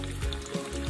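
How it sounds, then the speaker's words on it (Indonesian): Garlic frying in hot oil gives a soft, steady sizzle with faint crackles, heard alone and fairly quiet. "Panaskan minyak, masukkan bawang putih. Goreng jangan sampai garing."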